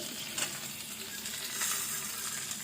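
Ginger, garlic and curry leaves sautéing in a pan, a soft, steady sizzle with light stirring, fairly quiet throughout.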